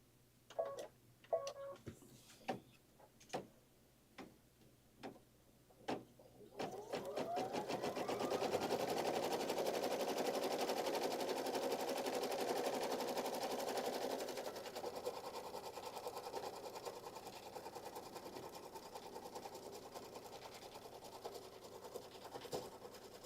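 An embroidery machine begins a placement stitch on pink fabric in a quilt block: a series of separate clicks and taps first, then a steady close mechanical whirring hum of rapid stitching that keeps going to the end.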